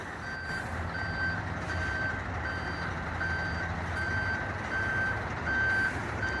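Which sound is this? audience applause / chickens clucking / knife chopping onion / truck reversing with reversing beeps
truck reversing with reversing beeps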